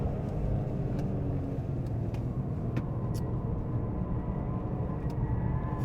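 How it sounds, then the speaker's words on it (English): A Toyota GR Corolla hot hatch lapping the Phillip Island track, heard from inside the car as a continuous droning engine and road roar with faint, brief ticks and squeaks over the top. "We've got a bit of tyre squeal"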